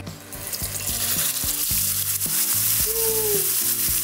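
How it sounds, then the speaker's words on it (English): Ribeye steak sizzles steadily in a pan on high heat, a dense close crackle with faint clinks and shifting under it, no talking. "that sizzle is exactly what we want to hear"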